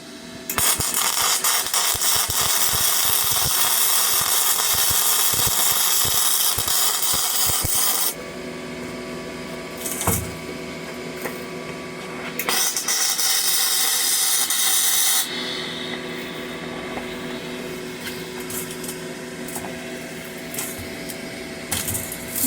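Flux-core welding with the torch dragged along the joint: a loud, steady crackling hiss in long bursts separated by pauses, heard up close with no talking.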